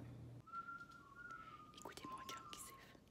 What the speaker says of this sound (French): Écoutez mon chum qui siffle.